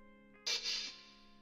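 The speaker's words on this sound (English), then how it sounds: "Then this other open hat," A single open hi-hat sample from shoegaze drum programming gives a short, bright metallic hiss that decays over about half a second, fairly quiet against a faint sustained tone.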